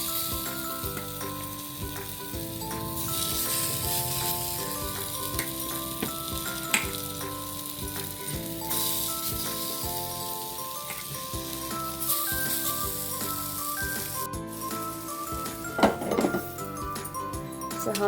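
Sabudana appe fry in a nonstick appe pan with a little oil, a steady close sizzle running throughout, while background music plays and occasional clinks sound, with no talking.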